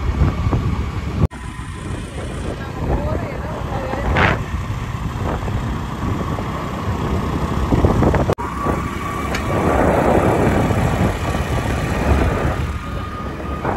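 Steady engine drone and wind rush from a moving motorbike, continuous throughout, with brief speech in the background.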